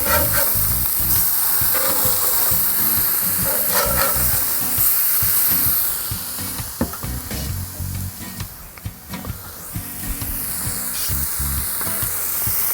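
Venison burgers sizzle steadily on a grill, a loud continuous frying hiss with occasional crackles and shifts as they cook, heard alone without talk.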